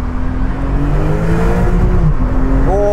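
A de-restricted Brabus Porsche 911 Turbo S engine revs loudly and steadily, its pitch climbing and sagging before a sharp rise toward the rev limiter at the end.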